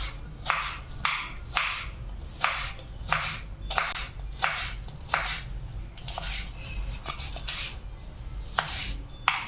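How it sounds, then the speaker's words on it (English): A knife chops a tomato on a cutting board, first into strips and then into cubes, giving a steady series of close, crisp cuts at a regular rhythm with brief pauses in between. "what I always do is I'm going to cut this into strips, then I will cut it into cubes"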